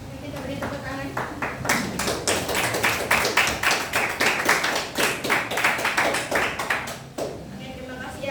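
An audience in a classroom-style gathering claps in a burst of rhythmic, sharp hand claps that hold steady for several seconds, then briefly drop away before resuming faintly, with voices murmuring underneath.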